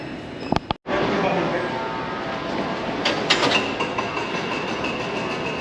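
Los Angeles Metro Red Line subway train riding underground toward Union Station, a steady loud rumble and roar with rail clatter and brief squeals, continuing throughout after an abrupt start.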